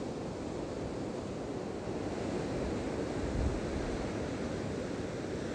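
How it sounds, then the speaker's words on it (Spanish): Small half-metre sea waves breaking at El Peñón beach form a continuous, even wash of surf mixed with wind noise on the microphone. "Aquí en El Peñón hay olitas de alrededor de medio metro"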